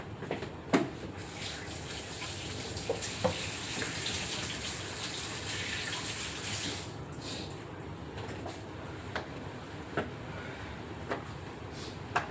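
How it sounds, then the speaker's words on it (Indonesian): Water running steadily from a tap during handwashing in a home kitchen, a continuous close rush that eases off partway through, with a few scattered knocks and clicks of hands and objects near the sink. "Cuci tangan dulu sebentar ya."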